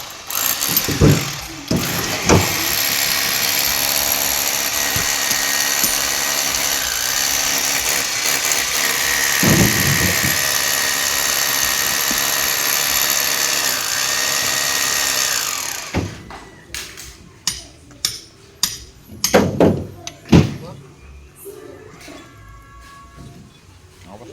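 A loud, continuous power drill grinds into stone for about fifteen seconds, then cuts out, leaving scattered knocks and scraping bursts.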